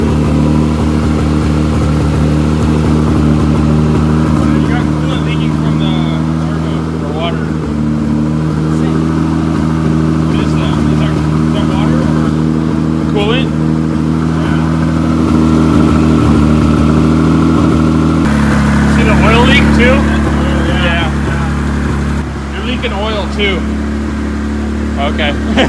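A swapped-in turbocharged car engine runs steadily for a long stretch, a loud close drone with small rises in revs, while people talk over it.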